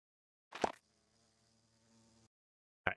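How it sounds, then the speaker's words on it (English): A sweat bee in the Minecraft video game gives off a sustained, moderately loud insect buzz lasting over a second, bracketed by short sharp clicks or hits before and after. "All right, sweat bee. It's aggressive."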